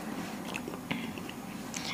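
Close, quiet chewing and crunching of fried Spanish peppers served with cold beer, soft irregular bites and mouth sounds over faint background noise, with no talking.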